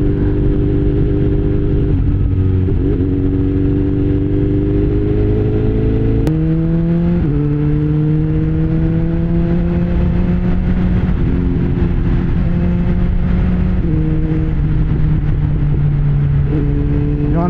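Motorcycle engine droning and shifting pitch through repeated gear changes as the rider moves through road traffic, loud and close with a constant whirring wind and road noise.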